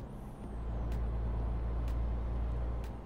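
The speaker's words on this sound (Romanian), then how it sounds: "Nu știu de ce se aud buteliile de aer ca și cum ar scăpa" Renault Range T truck in Euro Truck Simulator 2, its air tanks hissing steadily under a low engine rumble, with three short sharp bursts of air spaced about a second apart.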